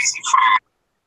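Pet frogs kept in a tank croak in a short, close burst of overlapping calls lasting about half a second, then stop and leave silence.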